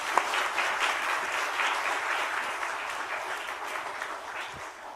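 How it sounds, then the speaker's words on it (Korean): A church congregation at a summer revival service claps steadily in warm applause as the pastor comes forward, a dense continuous patter filling the hall at moderate level, no voices standing out. "나오실 때 뜨거운 박수로 하나님께 영광 올려드립니다."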